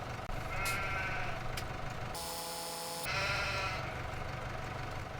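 Sheep bleat repeatedly, close and loud, in a flooded-farm video game as they are loaded into a livestock trailer, one sustained bleat standing out over a steady background hum.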